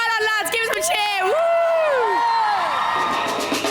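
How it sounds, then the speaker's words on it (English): Young voices whoop and cheer loudly in a kids' TV studio, with rising and falling shouted calls layered over crowd noise, close and energetic for a few seconds before fading into babble. "Well done, lads. Give us a cheer."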